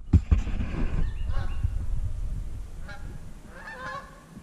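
Several geese in a park honk in short bursts of a few calls each, at moderate distance, over a low rumbling outdoor background with no one talking.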